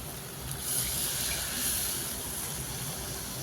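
Water poured into a pan of egg curry, a soft continuous hissing gush that swells for a moment in the middle, fairly quiet and steady.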